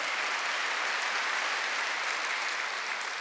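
A church congregation applauds during a Wednesday worship service, a steady, dense wash of clapping that holds at even loudness from start to finish with no voices standing out.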